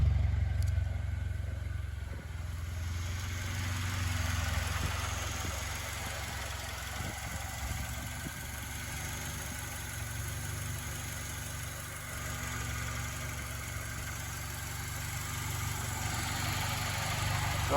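An Acura RSX Type S engine idles after a K24 swap, steady with a low, even rumble and a constant hum, running smoothly with no revving.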